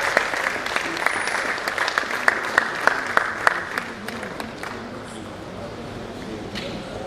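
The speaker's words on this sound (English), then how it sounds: "Please a round of applause." Audience applause at a medical college scientific conference plenary session as a physiology professor is called up; a wash of clapping with several sharper, distinct claps standing out, thinning toward the end while a voice speaks over it.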